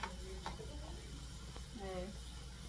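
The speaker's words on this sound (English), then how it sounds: "É bom fritar tudo, é?" Food sizzling in a pan with olive oil during a low-carb dinner prep, a steady close hiss with soft stirring scrapes and a faint voice in the background.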